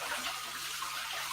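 Tap water running over sticky hands in a kitchen sink, a steady close hiss of flowing water with no breaks and no voices.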